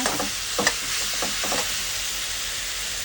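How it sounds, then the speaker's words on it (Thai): Pork marinated in garlic and pepper stir-fries in a pan with a continuous close sizzle, and a few quick spatula scrapes stand out early before the hiss settles. "ผัดให้เขาสุกทั่วนะคะ"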